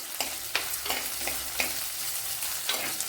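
Garlic, ginger and chillies frying in oil in a pan for a netholi anchovy dish, a soft steady sizzle broken by repeated sharp scraping stirs of a spoon against the pan.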